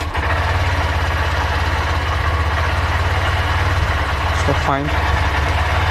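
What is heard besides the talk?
Honda Shine BS6 motorcycle engine started and idling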